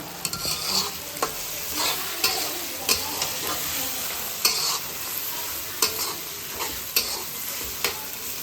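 Potato, carrot, tomato, egg and green chili with onion are stirred in a frying pan, a steady sizzle broken by regular scraping clacks of the spatula every second or so, close and continuous.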